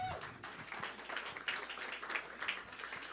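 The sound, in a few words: audience clapping at cafe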